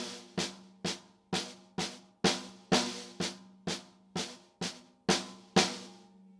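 A drum six-stroke roll played with accents on the two outer notes, heard as about a dozen sharp, ringing strikes in an even, steady pulse, close and clear with no talk.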